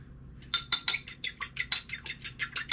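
A fork or whisk beating eggs in a bowl for a grilled egg and cheese sandwich: a quick, steady run of about a dozen light clinking strokes, close and clear, with no talk.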